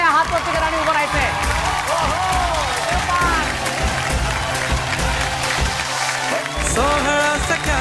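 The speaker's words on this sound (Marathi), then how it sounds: "जोरदार टाळ्या." A studio audience claps on a Marathi TV game show for women. The applause runs under loud music and a host's voice, keeping up a busy, continuous patter throughout.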